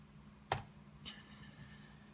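A few quick keystrokes on a computer keyboard in a quiet room: one sharp, close click followed by a couple of softer taps while typing a search query.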